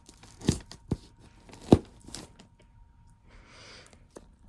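Old scissors snip and tear open a package for an unboxing of a Penberthy steam whistle, a few sharp crinkling cuts and tears with quiet gaps between them.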